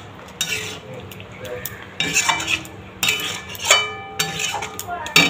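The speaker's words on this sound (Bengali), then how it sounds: "মাংসটা মশলার সাথে কষতে দিই। ব্যাস হয়েই গেল। এবার একটু কষা হতে থাক।" Chicken pieces being cooked down with spices in a pan give bursts of spoon scraping and metallic clinks against the pan, with only a faint sizzle underneath.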